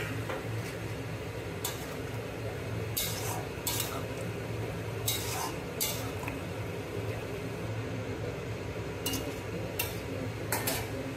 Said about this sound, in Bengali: এবার এর মধ্যে এই যে মাংসটা নুন হলুদ মাখিয়ে রেখেছিলাম সেটা এর মধ্যে দিয়ে দিলাম